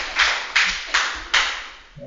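A group clapping in a room: four distinct loud bursts of hand claps in steady succession, each sharp onset fading quickly, with a faint voice starting at the end.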